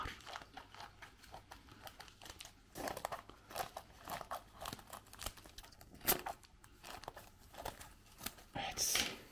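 Close, quiet crinkling of plastic fish transport bags with sharp scissor snips and rustles in irregular bursts, and soft speech now and then.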